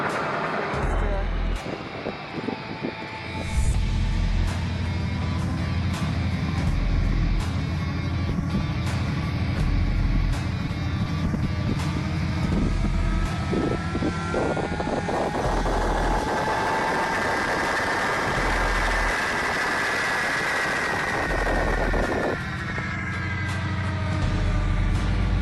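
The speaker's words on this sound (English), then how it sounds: "When diesel locomotive exhaust fumes burn off." A diesel locomotive engine runs with a heavy, steady low rumble and idling vibration, its pitch shifting slightly as it works, alongside voices talking at intervals.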